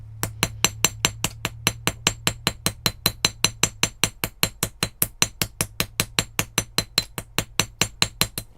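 A hammer strikes a copper washer being flattened for a jewelry necklace, about forty sharp metallic taps in a fast, steady rhythm, close and clear.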